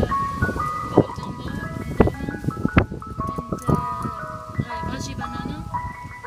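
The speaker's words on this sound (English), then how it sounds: "We're getting fucking ice cream from the ice cream truck." An ice cream truck plays its tinkling melodic jingle loudly and continuously, heard up close with faint road and vehicle noise underneath.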